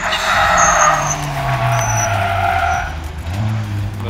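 A race car braking late into a chicane on track, its engine note falling steadily under heavy braking, with a tyre squeal or brake noise above it, then picking up again on exit. Loud and close, with no talk.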